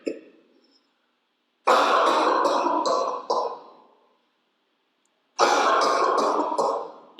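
A person coughs and clears their throat in two loud, rasping bouts a few seconds apart, each broken into several harsh bursts. The sound is close, with quiet gaps between the bouts and no talking.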